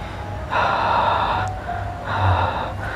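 A voice imitates heavy breathing: two long, raspy breaths, close and fairly loud, separated by a short pause.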